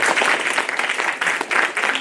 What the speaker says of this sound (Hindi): ताली बजाओ बहन।